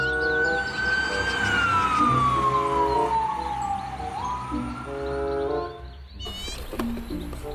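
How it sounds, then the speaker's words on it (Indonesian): A wailing toy fire engine siren sweeps slowly down in pitch over busy electronic music, then cuts to a brief higher jingle near the end. "Mobil pemadam kebakaran."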